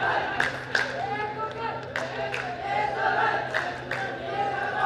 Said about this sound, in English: So the crowd really started to get behind the Singapore team